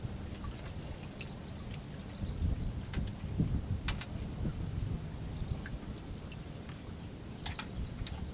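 Rain approaches over open water during a fishing trip as an overcast storm builds, with a steady hiss of falling drops, scattered sharp patters and a low rumbling undertone that swells briefly midway.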